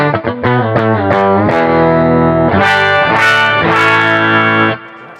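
Loud distorted electric guitar plays through a DigiTech Whammy pitch-shift pedal set to detune. Its notes are thick and shimmering, and the chords ring alone before cutting off.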